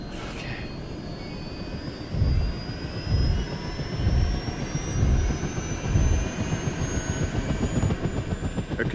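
An aircraft engine roars steadily overhead during a medical airlift of a critically ill patient to hospital, with a rising turbine whine and rhythmic low pulsing like rotor thumps, loud and sustained with no voices.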